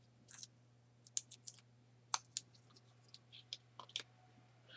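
EK Success scissors snip paper in short, sharp clicks in an irregular run of about a dozen close cuts, crisp against a faint steady hum with no talk during crafting.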